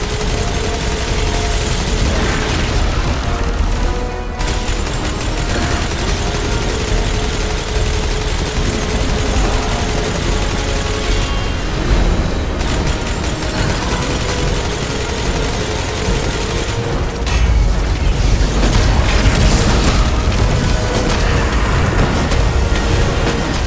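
In the shooter game Destiny 2, continuous loud gunfire and explosions churn as a dense, unbroken roar of weapon bursts and mechanical rumble, with no talking over it.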